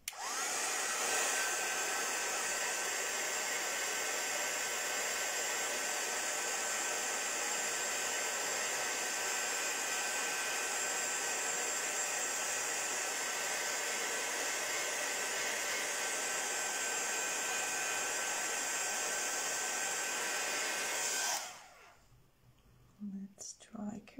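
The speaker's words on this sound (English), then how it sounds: "We need to use the heat tool again." A heat tool blows steadily on a craft project to dry it, a loud continuous whooshing hiss close by that cuts off abruptly near the end, leaving quiet.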